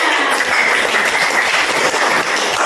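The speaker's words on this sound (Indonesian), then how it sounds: "Oke, tepuk tangan." Students in a classroom clap as a group after finishing a game of Monopoly, producing a steady, moderately loud patter of many hands that continues evenly for a few seconds without speech.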